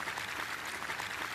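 Audience at an Italian school television event applauding students from earthquake-hit regions, a dense wash of steady clapping throughout.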